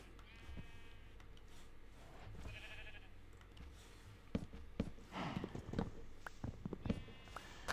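Sheep and cows in Minecraft, with a few short, spaced bleats over a low background hum, mixed with soft footstep-like clicks and scattered busier rustling toward the end.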